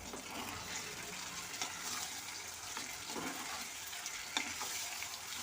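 Citron pickle with sugar and asafoetida being stirred in a hot pan, a steady soft sizzle with scraping stir strokes throughout, no talking.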